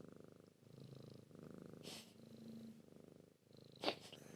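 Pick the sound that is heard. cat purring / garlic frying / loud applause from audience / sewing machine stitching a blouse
cat purring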